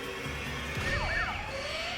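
A synthetic siren sound effect from the Wild Heist Cashout slot video game wails with rising and falling sweeps over a dense bed of game music and chimes, steady and moderately loud, without talking.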